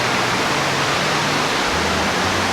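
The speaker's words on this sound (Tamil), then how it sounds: "இந்த ஃபால்ஸ் தெரியுதா? சத்தம் கேட்குதா?" A waterfall on an island in the Seychelles roars as a steady, dense wash of rushing water, loud and continuous throughout, with no voices.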